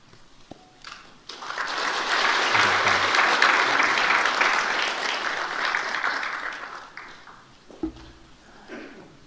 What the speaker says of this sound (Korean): 박수 소리는 처음과 마지막이 동일해야 됩니다.